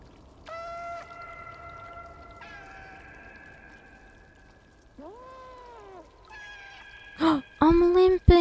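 In the video game Stray, a cat gives a series of drawn-out, plaintive meows of varying pitch, separated by pauses, then a few louder bursts at the end; no speech is heard.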